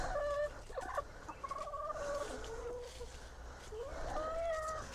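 Chickens are fed mustard greens and cluck and warble in short rising and falling calls, several birds close by over a low outdoor background.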